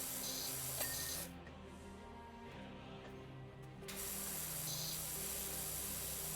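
A pressure washer in PowerWash Simulator hisses in a steady, close spray, cutting out for a few seconds in the middle and then resuming at the same level.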